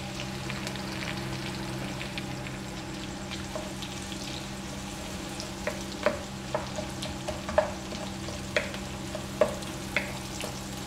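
Onions and green chilies sizzle steadily in a hot pan, with scattered pops and occasional stirring scrapes, close and fairly quiet.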